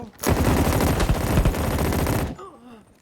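A sustained burst of rapid automatic gunfire in the video game BattlePrime rattles loudly for about two seconds, then cuts off abruptly as faint game sounds remain.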